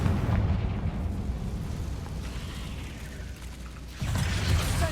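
Confringo blasting spell going off in Hogwarts Legacy, a loud rumbling explosive burst with sustained low roar that fades, followed by another heavy impact near the end.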